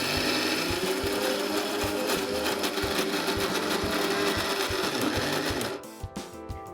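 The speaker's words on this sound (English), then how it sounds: "Let's start with grinding the soaked lentils for the batter." A motorized grinder grinding soaked lentils into thick batter runs steadily with a rhythmic, rapid whirring and thumping, close and loud, then slows and stops near the end with a few soft knocks.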